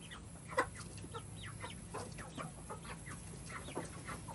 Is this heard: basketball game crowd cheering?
no